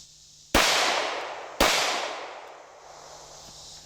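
A Glock 17 Gen 5 pistol fires two loud, sharp shots about a second apart at a shaving cream can outdoors, each crack trailing off into a long fading echo.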